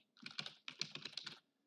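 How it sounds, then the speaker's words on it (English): Rapid keystrokes on a computer keyboard while a name is typed, two quick bursts of clicky taps separated by a brief pause, close and clear with no talking. "And I'll type a name here."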